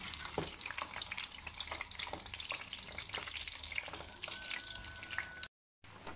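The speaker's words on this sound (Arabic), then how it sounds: "طبعا الزيت لازم يكون غزير كميته كتيرة وبدي اقليهم قلي كامل ليتحمروا منيح" Stuffed potatoes deep fry in plenty of oil, giving a steady crackling sizzle with scattered pops throughout, close and fairly quiet, briefly cutting out near the end.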